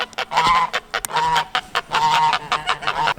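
Homestead geese honking in loud, close bursts, several birds calling over one another in quick repeated rounds with short pauses between.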